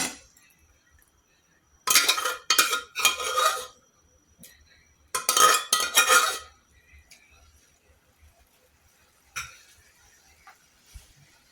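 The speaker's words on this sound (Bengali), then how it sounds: "আর ফুটানো ডাউলটা ঢেলে দিয়ে দিচ্ছি।" Boiled chana dal being poured into a pot on the stove, heard as two clattering bursts of metal scraping and clinking about a second and a half long each, with a fainter clink near the end and quiet gaps between.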